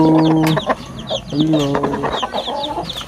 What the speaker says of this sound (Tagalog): Dito kulungan ng manok guys.